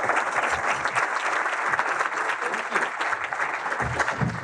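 An audience at a Rotary gathering claps steadily and warmly to welcome speaker Bob Babisch, dense sustained applause filling the room without letup.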